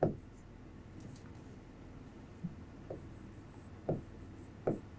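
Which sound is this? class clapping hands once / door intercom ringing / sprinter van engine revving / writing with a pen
writing with a pen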